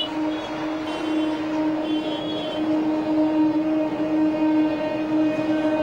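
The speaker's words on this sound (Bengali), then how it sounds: "ট্রেন চলাচল চালু হয়ে গেছে" A train runs through a busy suburban station at Sodepur after a rail blockade has been lifted, giving a steady rumbling roar with sustained tonal hum and no voices.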